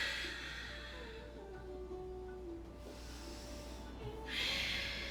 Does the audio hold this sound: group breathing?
yes